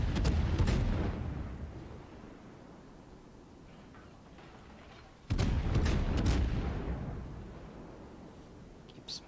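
Heavy ship guns boom in World of Warships, two loud broadband salvos several seconds apart, each trailing into a long rumbling decay with scattered smaller reports.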